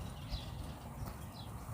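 Horse hooves clip-clopping softly on the ground as the animal is led forward, faint and distant over a low background rumble.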